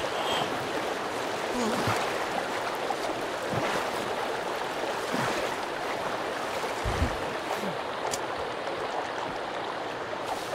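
Water sloshing and lapping as a character swims in the survival game Sons of the Forest, a steady watery wash with occasional splashes, with a voice speaking in the game.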